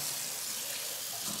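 A Zline kitchen sink faucet runs with its twisted lattice spray, giving a steady, fairly soft hiss of water with no breaks and no voices.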